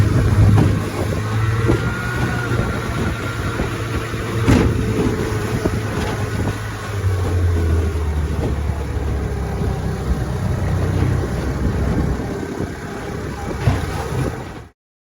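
A rebuilt 1957 Johnson Seahorse outboard motor drones steadily as it pushes a boat across the water, with wind buffeting the microphone. The motor keeps running for about fourteen seconds, then cuts off abruptly.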